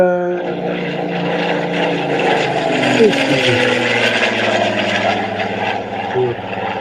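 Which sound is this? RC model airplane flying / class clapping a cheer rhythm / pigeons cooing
RC model airplane flying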